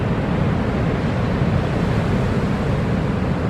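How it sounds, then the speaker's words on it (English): Huge waves wash through the St Lucia Estuary, a dense, steady roar of surf with constant low rumble, heard from a distance and unbroken across the few seconds, without voices. "Some huge waves washing through there"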